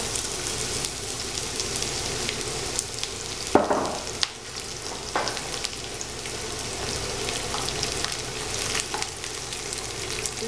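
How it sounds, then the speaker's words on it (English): Onions sizzle and fry in a very hot pan while charro beans are being cooked, a steady crackling hiss running throughout with a brief louder burst and stirring clatter partway, no talking. "Put them onions in there."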